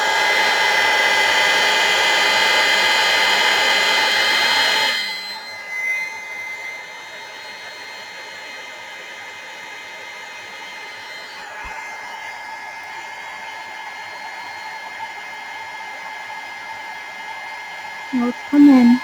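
A craft heat tool blows a loud, steady whirring roar for about five seconds while melting embossing powder on wrapping paper, then cuts off, leaving quiet room tone and a few soft handling knocks.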